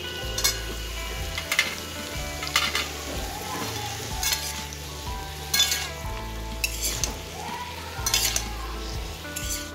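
Yellow capsicum fries in a pan for a mixed vegetable dish, with a constant sizzle punctuated by repeated spatula scrapes and clinks roughly every second, close and alone with no talking.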